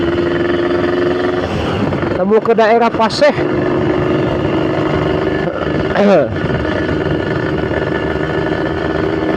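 A Yamaha YT 115cc motorcycle engine running steadily during a test ride, with a continuous close drone and a couple of brief revving surges, while someone talks over it.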